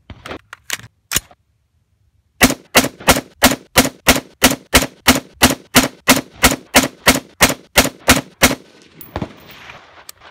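Rifle shots from 75 grain PPU ammunition fired through a Criterion barrel with about 15,000 rounds through it: a steady string of roughly eighteen sharp, evenly spaced reports, loud and close, following a few earlier clicks and a pause.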